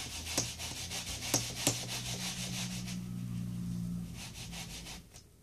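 Rubber stamp scrubbed back and forth on a stamp cleaning mat, soft continuous rubbing close up with a few sharp taps early on, fading out at the end.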